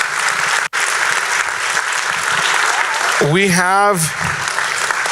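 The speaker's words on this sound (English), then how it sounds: "Please, round of applause for our administration." An audience at a middle school winter music festival applauds steadily, a broad wash of clapping filling the room while someone talks at the microphone, with a brief sung or spoken phrase rising near the end.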